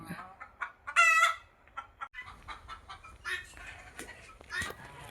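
Native country chickens on a poultry farm cluck and squawk in short bursts nearby, one loud crow-like call standing out among scattered farmyard noises.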